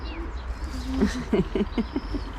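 Pigeons coo in a racing pigeon loft, giving a short series of soft, low, throaty calls close by, set against faint background noise.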